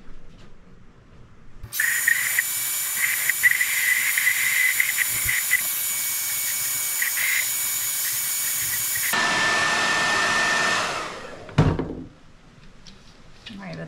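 A heat tool blows hot air onto a glass ornament being given a vintage mercury glass finish. A loud, steady rushing hiss runs for about ten seconds, then cuts off with a brief sharp knock near the end.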